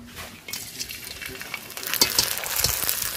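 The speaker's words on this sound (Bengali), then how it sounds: "তো এইভাবে আমি সবগুলো চিপস ভেজে নেব" Chips sizzle and crackle in hot oil in a wok, a steady frying hiss with occasional metallic scrapes of a utensil, growing slightly louder toward the end; no voices.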